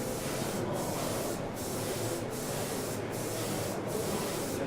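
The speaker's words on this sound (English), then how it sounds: "as I'm spraying this, I'm starting off the model and I'm working my way across it" Continuous spray gun hiss laying a finish coat across a model, steady and close with brief regular dips in the high hiss as each pass ends, no talking.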